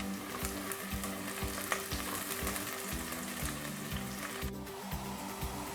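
Chopped onion and thick pieces of garlic fry in hot oil to a light golden colour, a dense, steady sizzle with crackles and occasional stirring, close and continuous with no speech.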